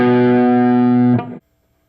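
An electric guitar with distortion plays a short solo run in a straight feel. Bright, sustained notes ring close and loud, then change briefly before cutting off abruptly.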